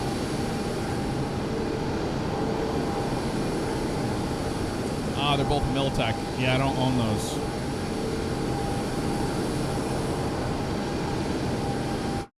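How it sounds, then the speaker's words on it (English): Twin engines of a Chinook helicopter in Microsoft Flight Simulator drone steadily and loudly throughout, a dense, unbroken roar with people talking briefly over it. "if y'all are in whatever H-47s or V-22s around us, we just shut those engines down, we could think"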